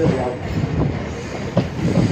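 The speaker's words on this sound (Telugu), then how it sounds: "ఈ గూడ్స్ రైలు బొగ్గు రైలు అనుకుంటా" A heavy coal-carrying goods train rumbles past close by, loud and steady, with rhythmic wheel clatter and occasional squeaks rising over the roar.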